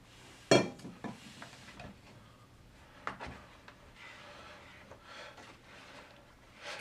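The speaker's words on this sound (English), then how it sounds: "This is pretty moist, so you can mix it by hand if you like." Pumpkin bread batter is mixed by hand in a bowl, with a sharp utensil knock at the start, then soft scraping, thick stirring and occasional clinks, quiet and close with no talk.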